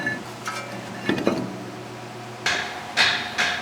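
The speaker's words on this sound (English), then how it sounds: "other times you gotta use a hammer" Metal clanks under several hammer blows on a brake rotor of a 2015 Ford F150's rear brakes, a couple of duller knocks followed by three bright ringing strikes spaced about half a second apart.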